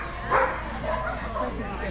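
Dogs bark and yip excitedly at an agility trial, a busy chorus of barks and whines running throughout beneath nearby talking.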